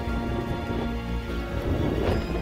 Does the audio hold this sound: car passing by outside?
no